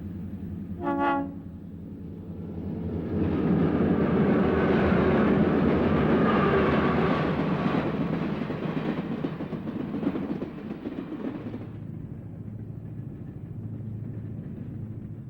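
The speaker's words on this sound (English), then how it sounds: "the now combined Super Chief and former all-coach El Capitan pass on a humid July day" Santa Fe's combined Super Chief and El Capitan passenger train passes on a humid July day at Grants, opening with a short horn blast, then a long, loud rolling rumble of cars that fades into a steady distant hum.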